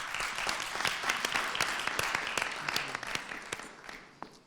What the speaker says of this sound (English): So if we can all just give y'all a round of applause for coming out here tonight.